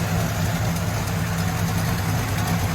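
A cammed 350 V8 in a 1966 Chevy Impala idles through a Borla Pro XS true dual 2 1/4-inch exhaust, a loud, close, steady low rumble with a slightly lumpy pulse.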